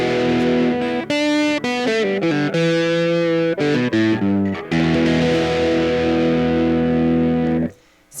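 Electric guitar played through an overdrive pedal set to low gain with a slight fuzz, sustained distorted notes and chords ringing loud and close, then cutting off near the end.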